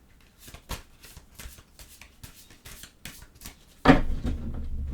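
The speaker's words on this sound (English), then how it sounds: "I haven't used these cards in a while." A deck of cards being shuffled by hand, giving a series of soft riffling flutters in a loose rhythm, close and quiet, ending with a louder, longer rustle.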